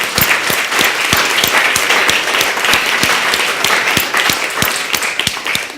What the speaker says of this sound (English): So you all get a round of applause.